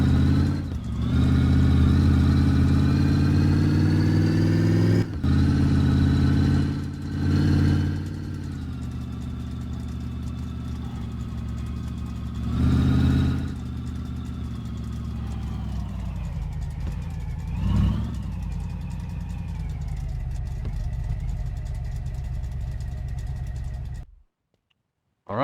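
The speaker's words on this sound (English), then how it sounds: "see if we can fire up Sphartan's old rat rod and see what it sounds like without an exhaust" An old rat rod truck engine runs with no exhaust fitted, a loud, raw, throaty idle with several sharp revs rising and falling, close by, before it cuts off abruptly near the end.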